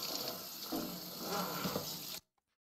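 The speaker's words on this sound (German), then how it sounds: "Also gehen wir kurz mit dem Wasser drüber." Tap water runs onto a cutting board in a home kitchen as it is rinsed, a close, steady splashing rush that cuts off abruptly near the end, leaving near silence.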